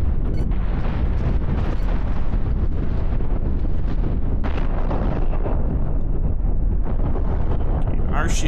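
Nuclear missiles detonating in the space strategy game Galactic Civilizations, heard as a continuous loud, roaring rumble of blasts with sharper bursts layered in, sustained and dense for the whole stretch.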